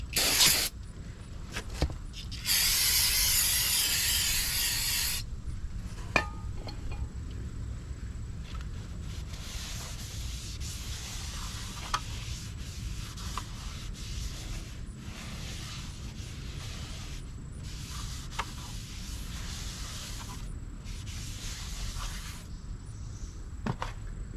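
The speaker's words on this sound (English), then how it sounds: "Always use brake clean on brand new rotors." Brake cleaner sprayed onto a brand-new brake rotor for a Mustang, a short close aerosol hiss followed by a quieter workshop background with faint clicks and mechanical noises.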